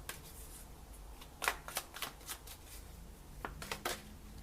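Tarot cards being shuffled by hand during a reading, crisp riffling bursts in short runs, close and soft, with a pause in the middle and no speech.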